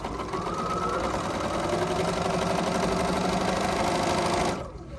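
A Bernina sewing machine running a straight stitch, a fast steady mechanical whir with rhythmic needle chatter that holds for several seconds, then stops abruptly.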